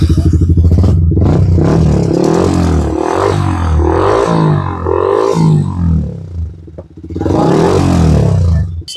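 Yamaha R15 V4 motorcycle with an aftermarket full-system exhaust, revved repeatedly in loud, close blips that rise and fall over several seconds.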